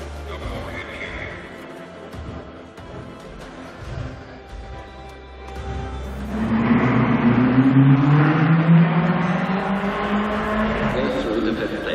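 A Ferrari Super Squalo racer with its four-cylinder 2.8-liter double-overhead-cam engine starts subdued, then revs hard and accelerates, its rising engine note building loudly over the second half while a voice talks.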